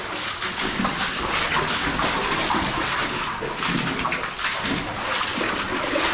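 Water flowing out of flooded underground mine workings makes a continuous, dense rushing and gurgling that stays steady and loud throughout, with no talking.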